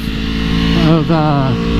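A 2017 Aprilia Tuono V4 1100 Factory motorcycle engine running loud and close, with a rising rev that dips briefly and climbs again over a steady low drone; a voice talks over it.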